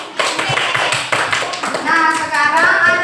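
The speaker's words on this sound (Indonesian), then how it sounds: "tepuk tangan untuk kita semua, Nak." A classroom of students clap their hands together, a close, busy patter of overlapping claps lasting a few seconds, with voices calling out over the end.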